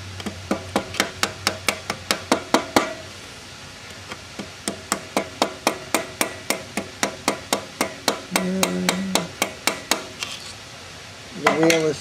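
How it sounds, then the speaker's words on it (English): Sharp metallic hammer taps strike a Singer sewing machine while a replacement timing belt is being fitted, dozens of close, ringing blows in steady bursts, with a brief pause and a short hum near the end. "Let's get Mr. Hammer into this."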